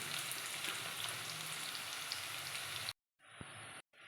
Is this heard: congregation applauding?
no